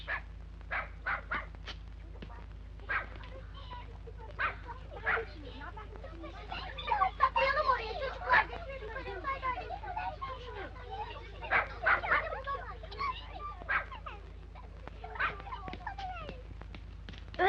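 A dog whimpers and gives short yips and barks in scattered bursts, fairly close, with a low steady hum underneath.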